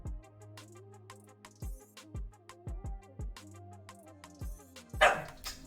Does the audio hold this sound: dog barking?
yes